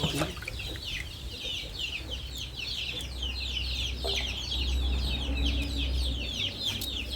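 Hungry chickens cluck steadily near a rural home kitchen where fish is grilled and papaya salad pounded, a dense chatter of overlapping calls under a low background hum with no talk.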